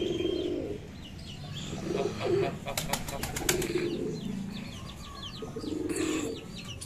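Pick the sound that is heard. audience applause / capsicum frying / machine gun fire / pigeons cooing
pigeons cooing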